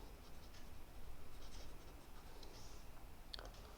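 A pen scratches faintly across paper while a side note is written during a maths lesson, with soft, intermittent strokes in a quiet room and one slightly sharper tap near the end.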